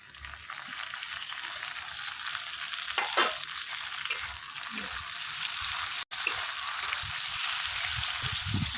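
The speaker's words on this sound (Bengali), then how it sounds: "এবার টমেটো কুচিগুলো দিয়ে দেবো।" Chopped tomatoes are added to fried onions and a dried red chilli in a pan while a snakehead fish curry is cooked, giving a steady, close sizzle with occasional scraping stirs.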